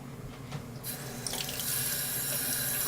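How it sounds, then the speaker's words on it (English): A kitchen tap turns on a little under a second in and runs steadily as cauliflower is rinsed under it, the water splashing bright and close over a quiet background. "Rinse it off, make sure it's all nice and clean."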